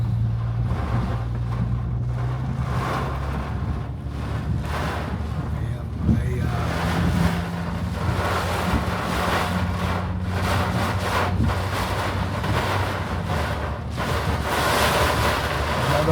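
Storm surge waves roll onto a flooded beach during Storm Debby, a constant roaring wash of surf with strong wind buffeting the microphone throughout.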